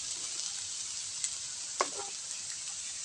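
Vegetables for eggplant in tomato sauce sauté in a pan with a steady, soft sizzle and hiss, broken by a couple of brief stirring scrapes.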